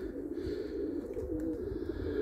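Racing pigeons, hard-flown and recently exercised, including Romanian birds, coo steadily at close range in a continuous low murmur from the loft, with no talk over them.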